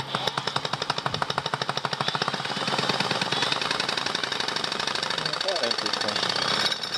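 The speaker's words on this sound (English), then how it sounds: "Alright, so he's going to run his drill." Engine block being drilled or run with a drill fitted with a gum cutter, a loud rapid hammering rattle at first that settles into a steady harsh grinding drone, with people talking over it.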